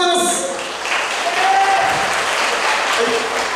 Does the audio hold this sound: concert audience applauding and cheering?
yes